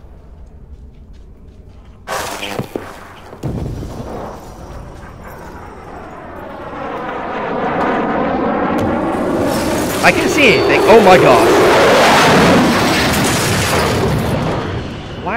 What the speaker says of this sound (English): Why are so many planes crashing?